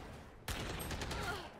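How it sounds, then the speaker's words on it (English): Gunfire in a video game: a sudden burst of rapid shots that cuts in abruptly after a quiet moment and carries on briefly, fairly close. "I literally shot him, but whatever."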